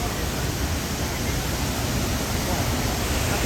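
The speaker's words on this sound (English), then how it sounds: "I'm here at Haew Su Wat Waterfall." Haew Su Wat Waterfall roaring steadily as a dense, unbroken rush of falling water, loud and close throughout with no pauses.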